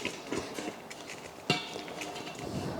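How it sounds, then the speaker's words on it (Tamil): Veg biryani, Hyderabad style, lifted out and moved into another cooking vessel, with soft scraping and a sharp metallic clink of a serving spoon against the pot midway, close and fairly quiet. "அப்படியே எடுத்துட்டு வேறு பாத்திரத்தில் மாற்றி விட்டுறலாம்"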